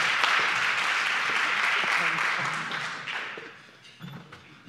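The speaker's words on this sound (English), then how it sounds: "we want you to give him a nice round of applause" Audience applause at a weekly club meeting, a wash of clapping that fades out over a few seconds, leaving a couple of soft thumps.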